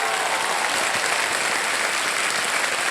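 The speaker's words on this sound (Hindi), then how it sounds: "जोरदार तालियां" A studio audience on a televised quiz game show bursts into loud, dense applause, a steady wash of many hands clapping at once for the full few seconds.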